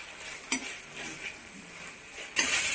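Tomatoes tipped into a pan of oil-fried spices while cooking a bamboo shoot sabji, a clattering burst of stirring and sizzling that jumps louder near the end, with a spoon clinking against the pan throughout.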